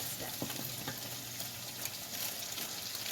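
Rosemary Alfredo sauce with cream bubbling and sizzling in a pan, a steady close crackle of cooking with soft stirring noises throughout and no talking.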